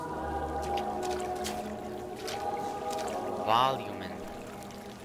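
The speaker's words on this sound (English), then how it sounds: "I love this water effect" Water effects in Bioshock Infinite sound as a soft watery wash and gurgle beneath a spoken voice, with a brief splashing swirl rising near the end.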